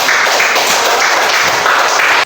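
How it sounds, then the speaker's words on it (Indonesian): Classroom applause for three students after their demonstration in a science lesson on density, a dense continuous wash of many hands clapping together, loud and steady for the whole stretch. "Kita berikan tepuk tangan untuk ketiga teman"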